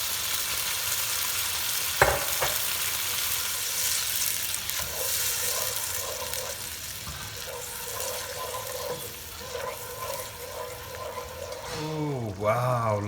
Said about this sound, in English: add 2 tomatoes and let this all simmer in this for about 5 minutes